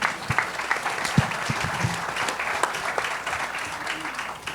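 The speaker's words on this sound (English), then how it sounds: "Can we have another round of applause for these candidates?" An audience at a Republican candidate forum for the Ohio U.S. Senate race breaks into a dense round of applause, sustained across the whole stretch with a voice faintly heard beneath it.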